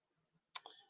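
Tarot cards being shuffled by hand give one short, soft burst of papery clicking and fluttering that fades quickly, heard alone against near silence.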